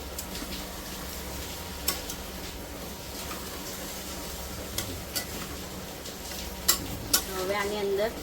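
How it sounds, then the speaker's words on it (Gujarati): Whole masoor lentils sizzling in oil with roasted masala, a steady close crackle with a few sharp clicks of utensils against the pan, no talking. "હવે એની અંદર આપણે આ નાખી લઈશું મસૂર"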